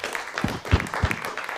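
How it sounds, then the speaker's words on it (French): An audience at a thesis speaking contest, Ma thèse en 180 secondes in Fribourg in 2021, applauds itself from the hall. The clapping is fairly faint and loose, with a few stronger thumps standing out. "Applaudissez-vous."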